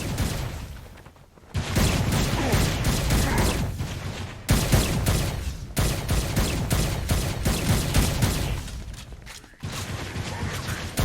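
Dense, loud bursts of automatic gunfire and explosions roar almost continuously through a Saints Row Gat Out of Hell battle, broken by a few brief pauses.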